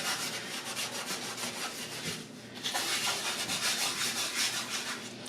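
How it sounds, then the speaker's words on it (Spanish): Steady rasping strokes of hand sanding on hardwood, rhythmic back-and-forth scrubbing, close and continuous with a short pause midway. "lijando a mano no es nada fácil"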